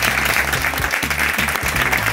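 Loud, close audience applause at a live variety show, dense continuous clapping under a pulsing musical beat, lasting about two seconds without a break.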